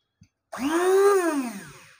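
A small electric grinder machine whirs up after its lid is pressed on, spinning up to a steady high-pitched motor whine that holds briefly and then winds down as it slows, close and alone.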